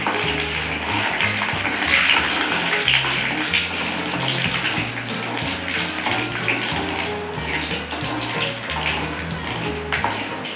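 Mustard seeds splutter and crackle in hot oil in a pan, a dense rushing hiss with scattered pops and sputters running continuously, close and moderately loud.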